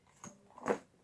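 Scissors snip away excess crochet thread from a rug project, one soft crunchy cut at close range after a faint earlier rustle, quiet overall.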